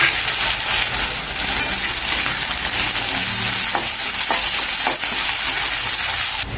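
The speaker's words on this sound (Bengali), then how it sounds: "তেলের মধ্যে মাছ ভাজার তেলের মধ্যে পেঁয়াজ কুচি দিয়ে দিয়েছি" Chopped onion frying in oil left over from frying fish for a fish curry, giving a loud, dense, continuous sizzle close up, with a few faint taps of a utensil near the end.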